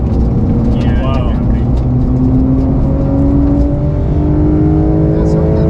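Fast car on a test track accelerating hard, its engine roaring loud and steady with the pitch climbing, heard from inside while people talk excitedly.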